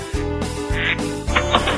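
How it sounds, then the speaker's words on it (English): Ducks in a living room quack in a quick run of nasal, honking calls, loud and close, with short pauses between bursts and no talking. "We'll be right back after Bob gets the ducks out of his living room."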